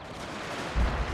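Artillery bombardment in the Total War: Shogun 2 strategy game: a single short, low cannon boom thuds in late after a quiet muffled background.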